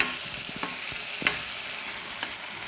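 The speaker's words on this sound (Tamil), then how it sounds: "இது வந்து எண்ணெயில் நல்லா வதங்கணுங்க." Indian gooseberries fry in oil in a pan, giving a steady close hiss of sizzling with a few brief stirring scrapes and taps.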